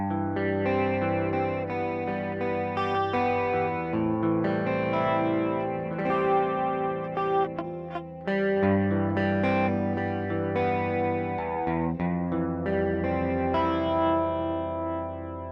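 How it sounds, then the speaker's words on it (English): Electric guitar chords ring through the chorus modes of a Walrus Audio Qi Etherealizer pedal, shimmering and wide with a lush, wavering modulated sustain, played continuously and alone without talk. "you got chorus. A trichorus and a stereo chorus."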